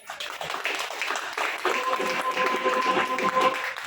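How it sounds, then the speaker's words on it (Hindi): An audience at a seminar in Vasco da Gama, Goa, claps in steady, dense applause that carries throughout, with a faint sustained tone running underneath partway through. "तो उनके लिए जोरदार ताली एक बार बनता है।"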